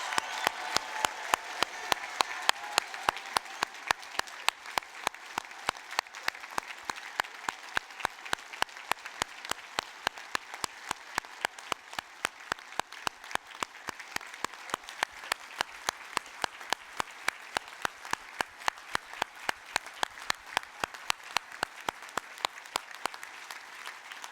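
Sustained audience applause at a university graduation ceremony, with many hands clapping in a steady, dense rhythm for about twenty-four seconds and no talking over it.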